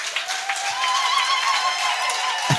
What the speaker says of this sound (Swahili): Sasa pigia Yesu makofi